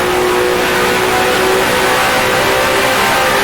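A 1966 Formula 1 car engine in the video game Grand Prix Legends, revving loud and steady on the throttle with a high, buzzing engine note that stays close and continuous throughout.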